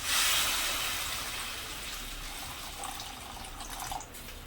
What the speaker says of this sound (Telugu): ఈ విధంగా వాటర్ పోస్తున్నానండి